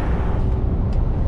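A low, steady rumble of a Scania G410 truck engine idling, heard from inside the closed cab, smooth and continuous.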